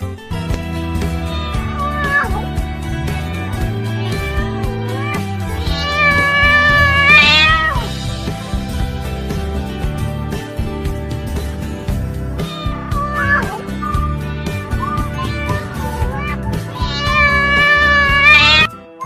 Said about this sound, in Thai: ฟังเสียงร้องของแมวกันนะคะ